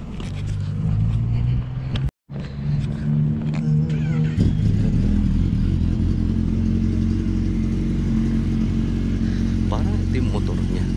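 Motorcycle engines drone and rev steadily at the 2024 Bridgestone CSBK Race 5 road race at Canadian Tire Motorsport Park, loud and continuous with a brief dropout, and background crowd chatter mixes in.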